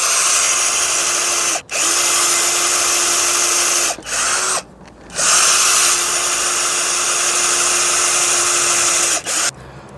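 A portable power drill whines in a loud, steady high-pitched run, cut by short stops at a few points, with no talk over it.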